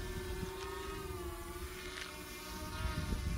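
Hubsan Blackhawk-1 drone at full throttle in film mode, a steady close high-pitched propeller whine with a droning hum that rises slightly near the end.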